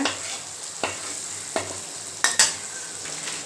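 Onions sauté in a pan with a soft constant sizzle, punctuated by several distinct sharp scrapes and taps of a spatula or spoon stirring against the pan.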